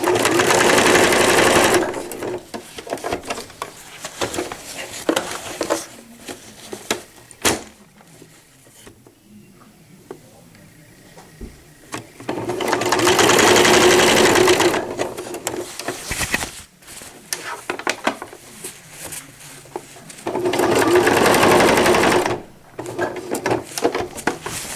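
A sewing machine stitches velcro onto a cloth diaper in several long, loud, steady runs broken by quieter pauses, with handling clatter and fabric movement between bursts, close up and with no voices.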